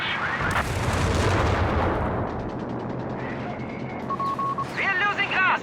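An anti-tank plane makes a strafing run in the video game Company of Heroes 3, with heavy booming gunfire and a rumbling barrage under excited commentary, followed by lighter in-game effects.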